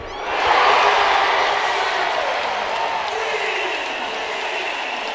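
A basketball arena crowd in Columbia roars after a three-pointer in a women's college game, a dense, loud wash of cheering that swells at once and holds steady throughout.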